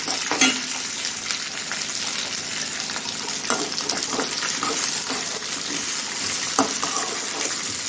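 Okra and onions sizzle steadily in a pan for sambar, a continuous frying hiss with occasional stirring clinks and scrapes, close and fairly loud.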